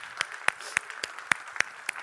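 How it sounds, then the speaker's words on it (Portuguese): A congregation at a Bible study claps for the evangelists in a sparse, rhythmic pattern, with sharp distinct claps at a fairly regular pace, close and clear, almost like a few people clapping in time. "Vamos dar um aplauso ao Senhor pelos evangelistas"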